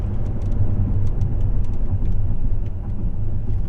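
A Mercedes-Benz EQE 350+ electric SUV accelerates hard from the driver's seat, with a steady loud cabin rumble of road and tyre noise building over several seconds.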